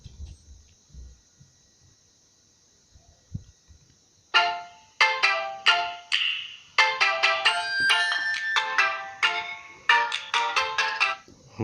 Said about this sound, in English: And this is the same ringtone.